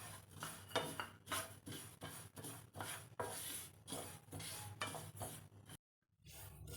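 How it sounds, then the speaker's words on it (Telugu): Sesame seeds being dry roasted in a pan for a sweet, with repeated scraping and stirring strokes of a spatula against the metal in a steady rhythm, then a brief silent pause near the end. "ఇప్పుడు నువ్వులు కూడా యాడ్ చేసుకుందాం. ఇవి కూడా బాగా రోస్ట్ చేసుకుందాం."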